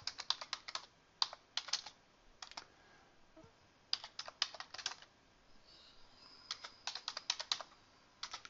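Typing on a computer keyboard, with quick bursts of crisp close key clicks separated by short pauses, fairly faint and with no talk.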